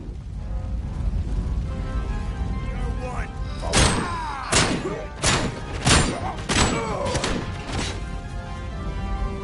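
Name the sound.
heavy gun firing in video game Robocop: Rogue City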